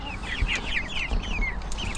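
Backyard chickens raised from incubated eggs, now grown to about a kilogram, clucking continuously in overlapping calls, close and fairly loud with no talk.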